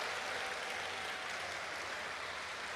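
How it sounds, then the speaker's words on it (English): Sustained, steady audience applause at an evening business event, a dense wash of many hands clapping at even loudness throughout with no voices over it. "How about a round of applause for KC Electrical Services?"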